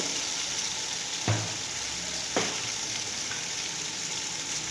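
Potatoes frying in a hot pan for Kashmiri aloo biryani, an even, close sizzle with two sharp clanks of a spoon against the pan, and nobody talking.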